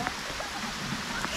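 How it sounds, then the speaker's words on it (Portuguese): Rain falls as a steady hiss during a fishing trip, with faint scattered drops, and a voice talks briefly over it. "Chuva."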